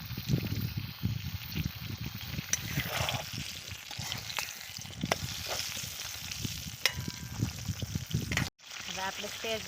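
Stuffed green chillies frying in a pan with asafoetida and turmeric, a steady close sizzle with stirring scrapes and a few clinks, then a brief cut near the end before the sizzling resumes.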